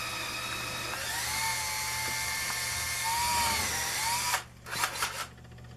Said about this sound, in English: Be very careful as I drill down that I get it straight.